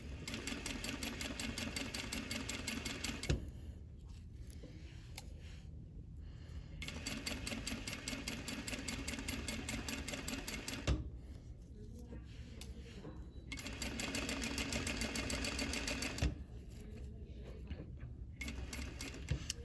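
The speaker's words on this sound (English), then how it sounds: "we're going to stitch down as far as we can" An industrial sewing machine stitches an invisible zipper into fabric, its steady motor whir running in long bursts with brief pauses between runs, close and clear.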